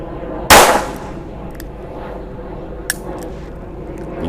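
A revolver fires a single loud, sharp gunshot at an indoor range from 7 metres, with a quick ringing decay, followed by quieter room noise and a faint metallic click.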